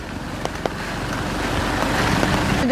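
Outdoor wind and rain in a heavy downpour that blows an umbrella about, a steady broadband rush that slowly swells louder, with a few faint thumps and no voices.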